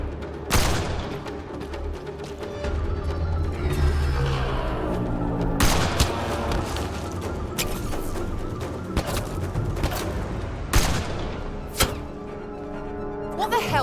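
Gunfire in Mass Effect: Andromeda at an outpost on Kadara, several loud scattered shots and impacts spread across a busy combat mix with music and raised voices.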